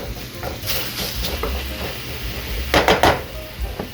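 Pork browning in a pan for lumpia, a soft steady sizzle under scraping and stirring, with a few sharper clatters of utensil against the pan near the end.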